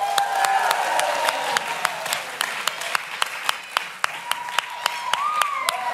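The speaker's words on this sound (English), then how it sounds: "Will you please give Annie a round of applause?" Steady audience applause for a woman being welcomed onstage, dense clapping filling the whole stretch with sharp individual claps standing out, along with a few brief voices over it.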